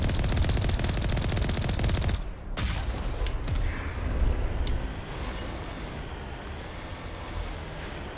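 Distant gunfire in Mass Effect 1 on Therum: a dense, sustained rattle of automatic shots that stays loud for the first couple of seconds, then continues as a quieter, scattered exchange with occasional sharper cracks.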